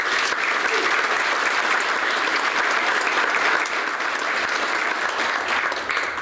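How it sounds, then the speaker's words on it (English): A luncheon crowd at a university sports hall of fame induction applauds an honoree, steady dense clapping throughout with a faint voice underneath. "Let's give him a big round of applause."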